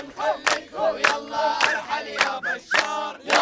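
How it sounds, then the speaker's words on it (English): Crowd of young men in a Syrian refugee camp in Turkey marching and chanting political slogans, rhythmic shouted chants in repeated bursts, loud and close. "a crowd of young men marches through the camp chanting anti-Bashar slogans"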